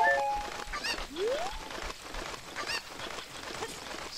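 A chicken in The Legend of Zelda: Ocarina of Time gives a few short clucks and squawks over a busy game soundscape, near and moderately loud.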